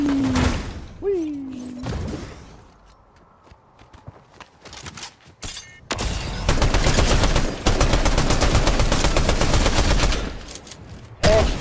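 Gunfire in the Fortnite video game: rapid automatic bursts that run for several seconds in the second half, with scattered single shots and footsteps before them and a voice briefly heard.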